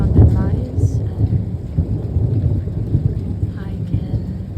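Thunderstorm with steady rain, heard from a home in Paris in winter: a continuous low rumble and dense rainfall fill the scene with no pause, strongest at the very start and holding near and heavy throughout.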